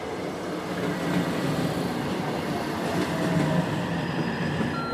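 A single-car diesel train on the JR Johoku line runs at a busy station area, giving a steady, loud rumble of engine and wheels that holds for several seconds with no talking.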